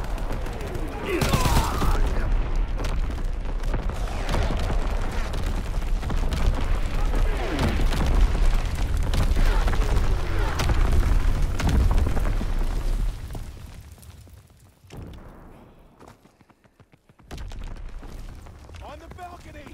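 Artillery battery firing in a video game, a long rumbling barrage of booms and blasts with scattered gunfire, loud and dense for most of the stretch before fading, with shouted voices over it.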